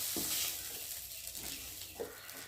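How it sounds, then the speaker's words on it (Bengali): Shrimp frying in hot oil in a wok gives a steady close sizzle, with a couple of soft stirring scrapes over the crackle. "চিংড়ি মাছগুলো ভাজা হয়ে গেছে। আর এখন আমি চিংড়ি মাছগুলোকে তুলে নেব।"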